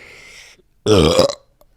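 A loud, close burp erupts after a moment of faint background sound, a single deep, croaking belch lasting about half a second.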